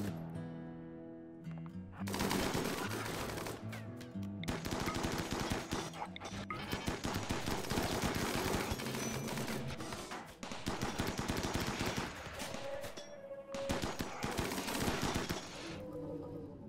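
Minigun turrets in RimWorld fire long, nearly continuous roaring bursts that pause briefly and resume, loud and sustained over a low tonal backdrop.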